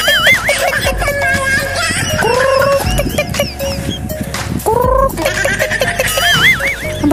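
Gamecocks and hens crowing and clucking near the Isdaan floating restaurant in Laguna, with several loud, close, rising calls repeating at intervals over a busy background.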